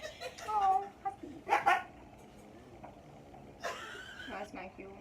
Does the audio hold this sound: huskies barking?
yes